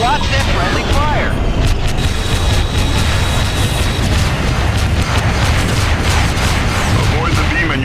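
Guns firing in the space combat game FreeSpace 2, a continuous roaring barrage of booming blasts and bursts under heavy engine rumble, with radio voices speaking over the din.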